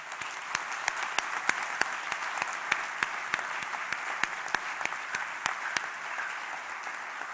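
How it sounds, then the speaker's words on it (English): A graduation ceremony audience gives a sustained round of applause, an even, steady wash of many hands clapping in a large hall for the Class of 2022, with no talking. "I want all of us to join together in a round of applause to recognize our graduates and our guests this"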